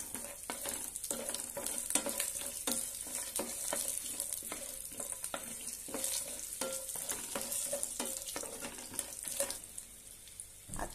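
Peanuts being sautéed in a pan for kairi bhat, raw mango rice: a steady close sizzle with frequent rattling stirs and scrapes of a spoon against the metal, continuous for about ten seconds.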